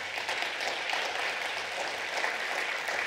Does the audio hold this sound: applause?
yes